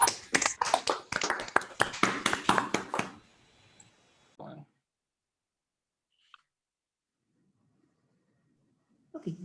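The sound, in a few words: applause over video call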